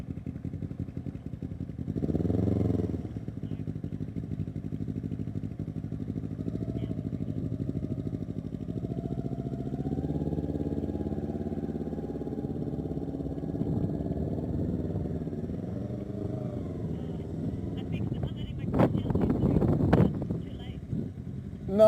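A learner's motorcycle engine idles and then pulls away as the clutch is let out. The low engine note rises steadily and hums on for many seconds, and a louder burst of revving or clatter comes near the end.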